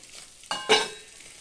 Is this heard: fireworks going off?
no